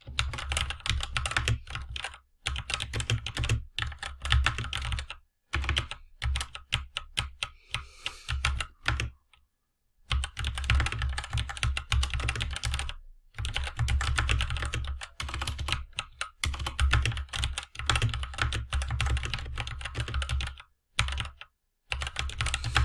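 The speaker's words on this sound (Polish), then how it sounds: "jak wygląda pisanie na takiej klawiaturze w czasie rzeczywistym" Steady typing on a KRUX mechanical keyboard, a fast run of close, crisp key clicks in bursts separated by short pauses, heard alone without voices.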